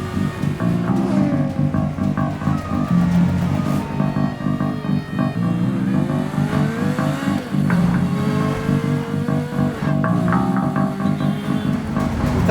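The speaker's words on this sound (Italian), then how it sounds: "percorre rigorosamente contromano in moto la rotonda del famoso Arco di Trionfo" Motorcycle in a film chase scene, riding the wrong way around the Arc de Triomphe roundabout in Paris, its engine revving and rising in pitch over dense traffic and a steady, loud rumble of cars throughout.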